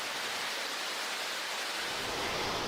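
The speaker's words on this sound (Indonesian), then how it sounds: "Dan sampailah saya di air terjun Sarang Walet." Waterfall at Sarang Walet cave, where surface water plunges into a rock tunnel below ground; a dense, constant roar of rushing water, loud and close, with no other sounds.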